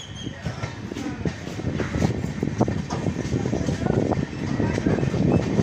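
Jogbani–Siliguri express train rolling along the Howrah–New Jalpaiguri main line, a steady low rumble from on board with rhythmic wheel clicks and rattles swelling slightly louder toward the end.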